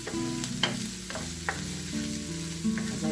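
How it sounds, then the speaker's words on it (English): Ginger and garlic sizzle in hot oil, a close, steady frying hiss with brief stirring clicks running through it. "Ginger and garlic. What you're doing is just heating them up and letting the oils get mixed with the heat"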